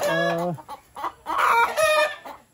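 Chickens cluck and squawk close by in a lively, overlapping chorus, with a drawn-out call at the start.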